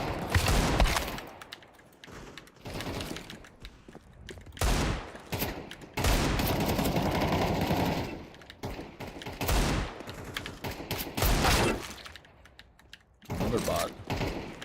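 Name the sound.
gunfire in a video game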